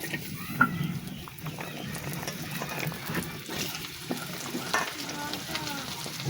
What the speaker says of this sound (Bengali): কড়াইতে তেল দিয়ে দিলাম আমার এই যে কেটে রাখা সবজিগুলো আমি এক এক করে দিয়ে দেব